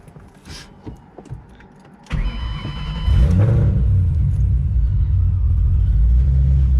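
A Ford Mustang GT500 engine cranks and fires up, settling into a loud, deep, steady rumbling idle that fills the rest of the clip, preceded by faint clicks and a short whine.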